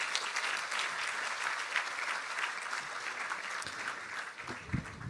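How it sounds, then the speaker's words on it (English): Workshop audience at a sustainable development event applauding, steady rippling claps from a sizeable crowd, somewhat distant and moderately quiet, tapering off toward the end. "Please give a round of applause for all of us."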